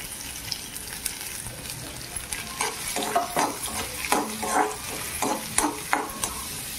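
Chopped onion sizzles and fries in hot oil in a pan while making shevaya upma, with steady crackle and repeated stirring scrapes, close and fairly quiet, no talking.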